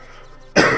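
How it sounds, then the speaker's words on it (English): A single sharp cough bursts in abruptly after a moment of near silence, close and loud. "I'm about to cough."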